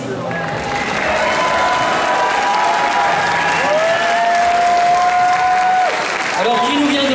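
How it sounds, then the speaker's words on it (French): An audience at a cosplay contest prize-giving at an anime and gaming convention in Fréjus bursts into sustained loud applause and cheering, with a voice speaking through the crowd noise. "je vais vous demander d'accueillir un tonnerre d'applaudissements pour Michael Kuditz."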